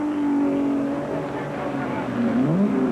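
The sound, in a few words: Ferrari race cars entering pits at 1964 Sebring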